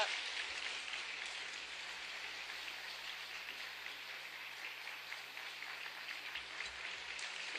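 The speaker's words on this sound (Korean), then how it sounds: "拍手を持って先生を迎えましょう。" Sustained applause from a church congregation welcoming a pastor, a dense, even wash of many hands heard from a distance.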